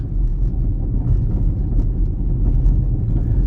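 Worn front suspension of a Skoda Octavia Tour rattling while driving on a dirt field road, heard from inside the cabin as a steady low rumble with faint, loose knocks scattered through it.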